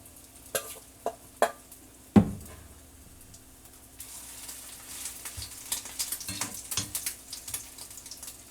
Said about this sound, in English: now I'm going to drop this a heaping tablespoon at a time into the olive oil